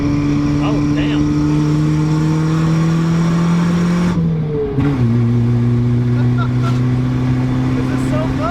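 A 1981 Toyota Corona wagon with home-made coilovers, its engine droning steadily from inside the cabin while driving in second gear, with a brief dip and shift in pitch partway through before it pulls on again.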